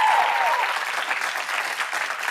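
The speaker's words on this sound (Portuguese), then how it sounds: "Um aplauso." An audience at a live Fado Bicha activism show breaks into sustained applause, a dense wash of many hands clapping steadily and fairly loud, with a brief tone at the start.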